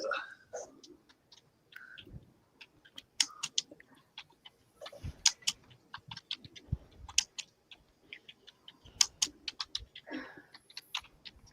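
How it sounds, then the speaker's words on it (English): Close, irregular typing on a computer keyboard, with quick clicky keystrokes in bursts and brief pauses, fairly quiet, with a few soft background sounds. "y'all can hear my keyboard"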